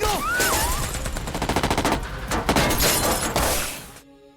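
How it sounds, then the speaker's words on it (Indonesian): Gunfire in a gangster revenge film: a dense, loud burst of rapid shots with sharp cracks and shattering debris over a tense score, ending abruptly. No talking. "Saat peluru itu mengenai Michelle, yang mati dari Tin bukan hanya istrinya"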